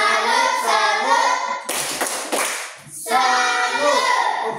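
A classroom group of children claps a rhythmic salute cheer, with sharp bursts of hand claps breaking between stretches of a teacher's voice and children chanting.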